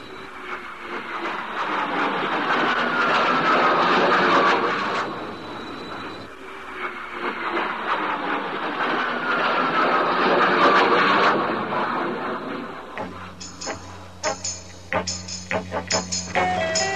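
A fixed-wing aircraft engine roars overhead in two passes, each swelling loudly and then fading away, followed by a few sharp clicks and thuds.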